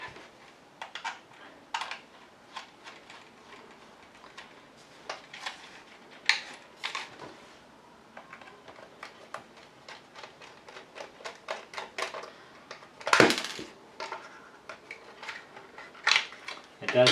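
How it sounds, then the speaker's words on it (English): Six AA batteries are clicked one by one into an RC transmitter's battery compartment, producing quiet, close plastic clicks and taps in an irregular rhythm, with a few louder snaps near the end. "does take 6 AA batteries. And load them up."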